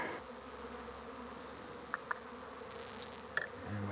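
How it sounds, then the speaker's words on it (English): Honey bees in a jar being shaken for a varroa mite sugar test, a steady close drone of buzzing with a few faint clicks and taps of the jar, no voices. "And then we're just going to rattle the bees to the corner."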